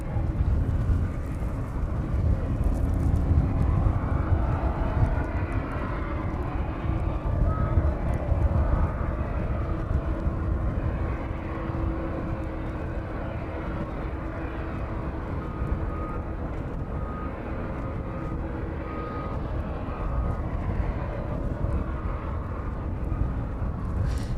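A Ryanair passenger jet arriving from Tenerife on final approach to runway 27 at East Midlands airport produces a steady, loud engine roar and rumble that holds throughout, with no voices.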